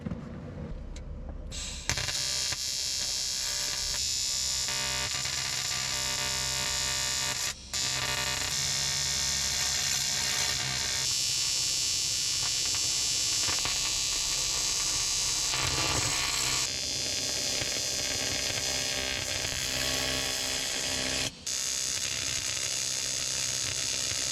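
A welder lays tack welds on a 1972 Jeep CJ5 shifter cover, a loud, continuous crackling buzz running for long stretches with a couple of brief breaks between arcs.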